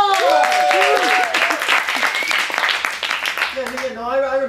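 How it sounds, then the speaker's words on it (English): An audience at an improv comedy show applauds with a dense wash of clapping, while a host's voice talks over it and carries on as the clapping fades. "Let's give them a warm round of applause!"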